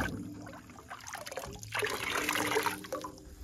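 Water is poured by hand from a watering can onto lavender plants on a farm, a close, steady splashing trickle that swells and fades as the stream moves.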